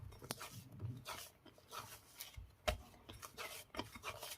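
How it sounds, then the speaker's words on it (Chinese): Rested dough kneaded by hand on a board, giving soft dull rubbing and pressing sounds in an uneven rhythm, with a few sharper slaps and thumps, close and fairly quiet. "经过松弛过后的面团很容易就揉光了。"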